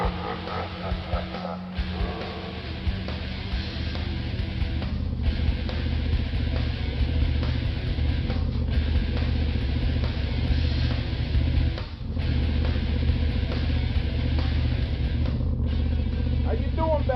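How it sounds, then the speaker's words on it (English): Car engine running with a steady low rumble and intermittent revving, heard close from inside the vehicle, with people talking over it throughout. "Suddenly, the car roars to life."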